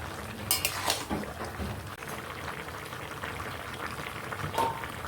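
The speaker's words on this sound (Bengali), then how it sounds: "দিয়ে এবার ভালো করে নাড়াচাড়া দিয়ে নেব" Fried fish heads are stirred into a bubbling Malabar spinach curry in a pot, with a couple of metal spoon clinks against the pot over soft simmering and liquid sloshing, no talking.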